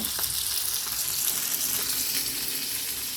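Pork fries in hot oil with a dense, continuous sizzle and crackle, close and steady throughout, with no talking.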